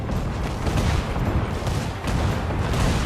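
Cannon and mortar fire in Assassin's Creed IV, a dense, rumbling barrage of booms and crackling blasts that stays loud and steady throughout without pause.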